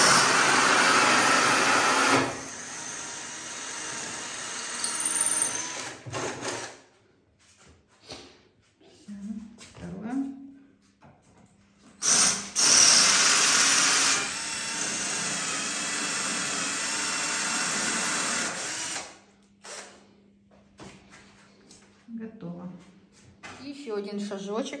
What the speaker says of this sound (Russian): Маленьким сверлом сначала проделал маленькие отверстия. Чик-чик. И теперь большое.